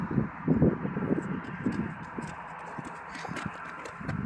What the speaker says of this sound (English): Running, prancing! Prancy, dancy goats!